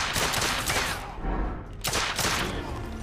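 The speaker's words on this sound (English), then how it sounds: "I'm using the right stick to move from target to target, and pulling the trigger to shoot." Rapid volleys of pistol gunshots from the video game The Order: 1886, loud and close, firing in quick bursts with a brief lull midway and no talking over them.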